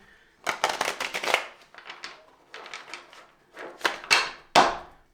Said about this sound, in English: These are pretty good to shuffle.